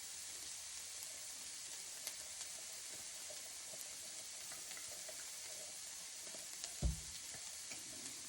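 Canned beans with their juice poured into a pan of sizzling chili, steady close frying hiss throughout with a short sloshing splash near the end, no talk.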